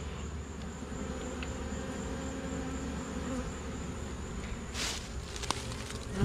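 Honeybees hum in a low, constant drone inside a cable box outdoors, faint and steady, with a few light rustles and knocks near the end.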